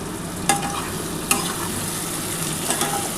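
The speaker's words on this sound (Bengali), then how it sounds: "এবার ঘিটা দিয়ে ভালোভাবে কষাতে হবে।" A spoon stirs and scrapes through a lentil fritter curry sautéing in ghee in a pan, with a constant soft sizzle and a few sharp clinks of metal against the pan.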